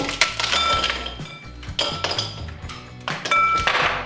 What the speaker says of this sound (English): put some ice in a big bowl